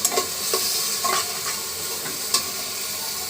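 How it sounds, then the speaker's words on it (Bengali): Beef masala being stir-fried in a pan ahead of pressure cooking, a steady close sizzle broken by several sharp scraping strokes of a spoon against the metal. "মশলাটা সুন্দর করে কষিয়ে নেব।"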